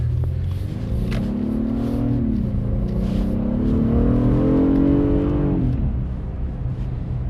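An Acura TLX SH-AWD A-Spec accelerates hard from close by, its engine note climbing steadily through the revs, easing briefly around a gear change, then rising again before backing off near the end, loud and continuous with no talk.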